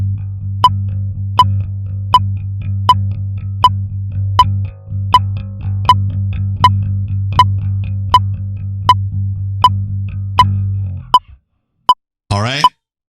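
Bass guitar holding a low, steady note pattern under sharp, evenly spaced metronome clicks. The bass stops near the end, and a voice speaks briefly at the close.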